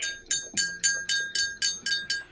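A small bell on a dog collar jingles in a steady, quick rhythm, ringing about nine times in close succession, bright and fairly loud with no voices.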